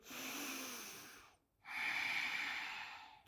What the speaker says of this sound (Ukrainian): Заключний глибокий вдих.